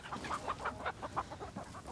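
A man imitating a cockerel makes rapid, repeated clucking sounds in a quick, uneven rhythm, faint and close, with no other voices.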